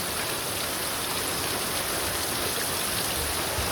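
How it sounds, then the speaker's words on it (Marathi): Heavy rain pours in a dense, constant roar with no break, close and loud throughout. "आज आमच्याकडे ना भरपूर पाऊस पडायला लागलाय"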